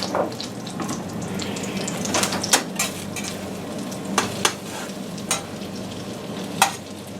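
French toast frying in a pan and worked with a spatula, a close steady sizzle broken by several sharp scrapes and taps of the spatula against the pan.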